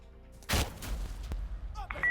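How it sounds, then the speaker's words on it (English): A sharp, loud grenade blast bursts close by in Insurgency Sandstorm, followed by a brief rumbling tail, a faint click and some beeping electronic tones near the end. "A grenade just fell right in front of his face and exploded."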